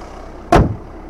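A single solid thud as the hood of a well-kept VW Golf 7 Comfortline is shut, one short loud slam standing alone against quiet background hum.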